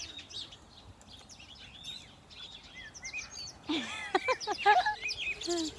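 A parrot and other birds chirp and tweet at Virginia Lake. Scattered high calls over soft outdoor background swell into a louder, busier burst of chirping toward the end.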